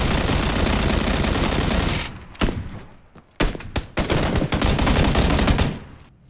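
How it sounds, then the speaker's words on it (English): Rapid gunfire from a hacker's gun in PUBG, a continuous roaring stream of shots for two seconds, then several more bursts of fast, loud fire broken by short gaps. "His gun shot extraordinarily fast, and every shot was pretty much accurate"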